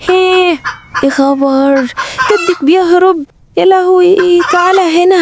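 A rooster clucks repeatedly in a lively countryside scene, its harmonic calls loud and close, with excited voices talking over and between them.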